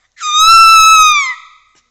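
A woman lets out a single loud, sustained, high-pitched scream lasting about a second, alone and close, fading out at the end.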